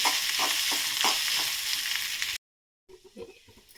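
Crumbled idli is stirred and tossed in a hot pan with light sizzling, repeated scraping spoon strokes close up, a brief silent break, then a few softer stirs.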